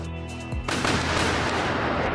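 Anti-aircraft guns firing against drones in a war zone, heard as a dense, continuous roar of rapid gunfire that swells in suddenly after a droning hum and stays loud and sustained.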